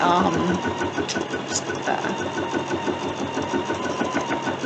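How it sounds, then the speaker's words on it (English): A quilting sewing machine sews a long basting stitch with dual feed for edge-to-edge quilting. A steady mechanical hum runs throughout with a rhythmic, ticking pulse, fairly close and moderately loud. "It takes a stitch and then it hops along for several steps with the"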